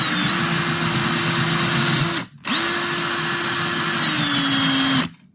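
A Rub Me label abrasion tester runs over tape labels in a durability test, giving a steady loud motorized whir with a high whine, running about two seconds, stopping briefly, then running again before cutting off.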